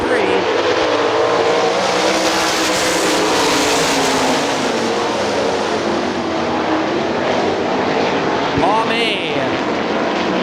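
GLOSS sprint cars race around the dirt oval at Hartford Speedway Park, a loud continuous roar of engines rising and falling as cars pass, with a track announcer talking over it throughout.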